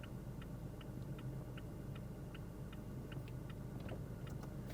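Hazard flasher on a Mazda B2000 pickup clicking in a steady, even rhythm of roughly two ticks per second over a constant low engine idle rumble, with no talk.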